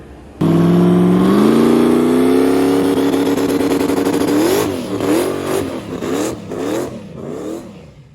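A car engine with a high-compression, methanol-fueled turbo build revs and rises steadily in pitch, then varies as the vehicle accelerates and eases off repeatedly, loud and close throughout.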